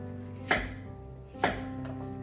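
A knife cuts zucchini into big pieces on a cutting board in an outdoor garden setting, with two distinct chops about a second apart over a steady background hum, then a lighter tap.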